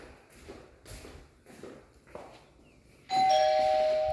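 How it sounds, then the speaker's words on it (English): Doorbell at a house on a walkthrough: a few soft taps and shuffling footsteps, then the bell rings out loud and sustained, a bright electronic chime holding steady to the end. "That is your doorbell."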